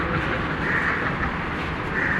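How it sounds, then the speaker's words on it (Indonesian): A train riding on its rails, heard as a steady, even rumble with a faint high hiss that never lets up, fairly loud and close as if from inside a carriage. "Kita di kereta"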